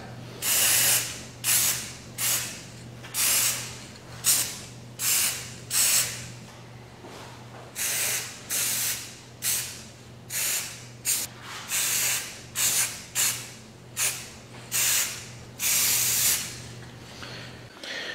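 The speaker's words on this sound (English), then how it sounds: "when I sprayed the paint on, it just soaked in and did not give a nice clean coat" Spray paint is applied to a porous wooden star in a steady run of short, close hissing bursts, roughly one per second, with brief pauses between them and a faint low hum underneath.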